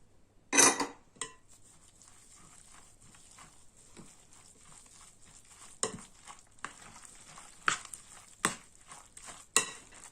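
Egg, salt and black pepper mixed into a potato cutlet mixture in a bowl, with quiet soft mashing under sharp, separate clinks of a utensil against the dish, close and without talk.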